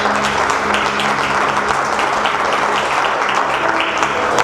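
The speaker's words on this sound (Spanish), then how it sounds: "¿Cuánto le dan un aplauso al Señor por eso?" A church congregation breaks into sustained, loud applause, a dense wash of many hands clapping that continues steadily throughout without speech over it.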